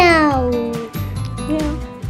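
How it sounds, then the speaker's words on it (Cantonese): A cat gives a couple of drawn-out, falling meows, clear and close, the second softer than the first, with brief quiet gaps between calls. "貓、貓喵"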